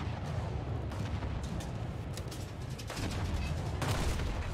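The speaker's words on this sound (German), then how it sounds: "Die schießen sich langsam auf mich ein." Naval gunfire from enemy ships in War Thunder booms in a dense, rolling series of heavy shots, with distant and nearer blasts piling over a constant sea-battle rumble.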